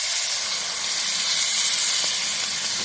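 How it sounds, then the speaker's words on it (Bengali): Water hitting a hot frying pan of Bengali fish curry with taro, cauliflower and potato, a loud continuous steamy hiss and sizzle lasting throughout without pause. "এবার আমি জল দিয়ে দেবো।"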